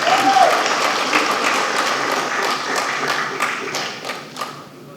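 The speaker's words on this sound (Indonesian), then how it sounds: "Berikan aplaus" Applause from a large crowd at the NasDem party event declaring support for Anies Baswedan, steady dense clapping sustained throughout and tapering slightly at the end.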